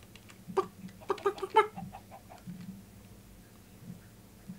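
Chickens clucking in the Minecraft video game, a quick burst of several short clucks close together, then quieter low background sounds, with no talking.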